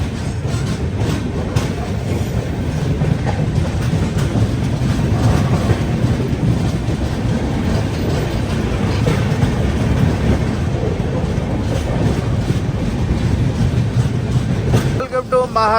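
The Grand Trunk Express, an old Indian passenger train, rolls along near Betul and the Nagpur outskirts with a steady, loud rumble and rhythmic wheel clatter throughout, a brief voice faintly under the noise.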